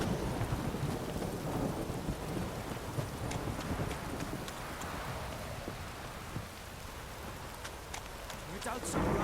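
Rain and rolling thunder in The Witcher 3, a steady wash of rainfall under a low rumble, with faint hoof clip-clops and someone talking over it.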